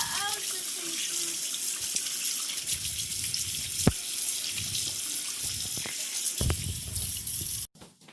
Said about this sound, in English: she's going to wash her hands because of how much dough is on there